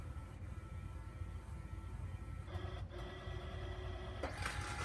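A DNP photo booth printer runs steadily, feeding and printing photo sheets with a continuous mechanical whir, then gives several clicks and a brief louder burst of motor noise near the end.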